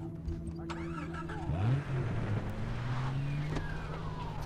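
A car engine in Far Cry 3 cranks and catches, then revs up and settles into a steady driving drone with rising pitch, fairly close, with a voice talking over it.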